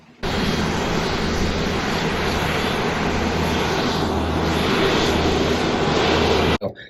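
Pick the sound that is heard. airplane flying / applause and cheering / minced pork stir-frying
airplane flying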